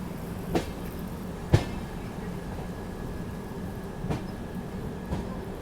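A train arriving at New Bongaigaon junction railway station, a steady low rumble of rolling wagons with a few sharp clanks and knocks spaced through it, no talk.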